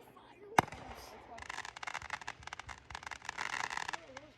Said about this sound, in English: show more fireworks.